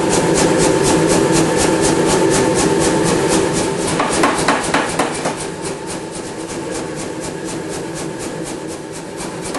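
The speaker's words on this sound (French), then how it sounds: "Et enfin j'étire la pointe de la lame. Toujours au pilon bien sûr." A power hammer forges and draws out the point of a sword blade, a loud continuous rapid pounding that runs steadily and eases slightly in the second half, with no talk.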